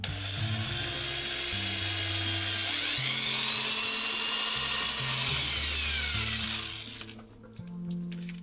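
A 7/64 drill bit bores a hole in a handmade catch plate, a steady high-pitched whine with a low motor drone that stops near the end, leaving brief quiet.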